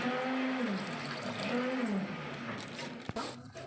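A cow moos twice in long, low drawn-out calls, fairly close, followed by a sharp knock near the end.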